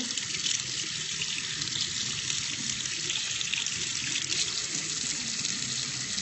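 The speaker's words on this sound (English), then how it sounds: "so we're in the sink. Let's get some water running." Tap water runs steadily into a sink, a constant bright splashing hiss close by that holds at an even level the whole time, with no talking.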